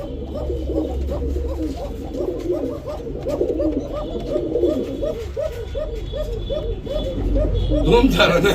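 Arabian Kokka pigeons coo in a cage, with repeated rolling, throaty calls that keep going close by while a person talks over them.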